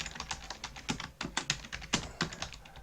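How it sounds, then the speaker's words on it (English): Rapid keystrokes clatter on a computer keyboard while HTML is typed, with close, crisp clicks in an uneven stream and a few louder taps. "So I type my H1 header to put a heading on the page."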